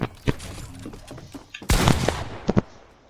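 Pump shotgun blasts go off in a first-person video game, a few sharp, close bangs with a heavier burst in the middle and two quick final shots, with no talking.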